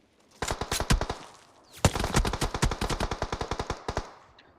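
Rapid automatic gunfire from an M249 light machine gun in the mobile battle royale game BGMI, two loud sustained bursts of closely spaced shots separated by a brief pause, with no talk over them.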